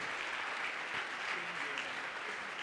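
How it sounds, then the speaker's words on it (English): An audience at a stage event honoring a speaker claps in steady, dense applause that continues unbroken at a moderate distance. "You can continue to put your hands together and clap for Dr. Aiswarya."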